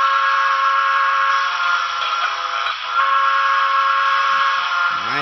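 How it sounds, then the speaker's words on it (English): A model Pennsylvania Railroad T1 steam locomotive's whistle sounds loudly and continuously, a rich multi-tone chord holding for several seconds before a low rumbling starts at the end. "Here's the whistle."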